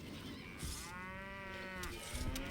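A cow moos once in the medieval strategy game Stronghold Crusader, a drawn-out low call mixed with faint battle noise and brief thuds, moderately quiet, with no one talking.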